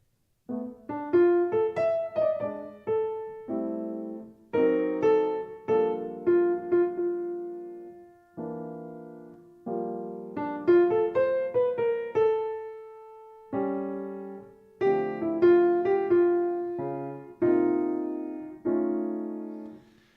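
Jazz piano plays chord-heavy phrases in the middle register with a weak left hand and little bass underneath, giving a thin, top-heavy sound in steady repeated bursts.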